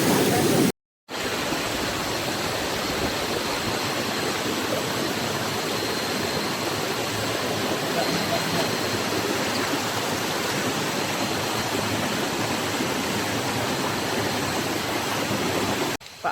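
A river stream rushes continuously along a hiking trail on Gunung Nuang via Pangsun, a dense, steady wash of flowing water close by, broken only by a brief cut near the start.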